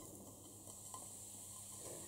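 Quiet, steady sizzling of onions frying in hot oil in a saucepan, a soft continuous crackle with no voices.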